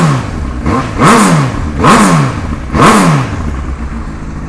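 A 2005 Honda CBR1000RR Fireblade with a carbon can exhaust is revved three times in quick succession, each blip rising sharply then falling back to a lumpy idle, close and loud.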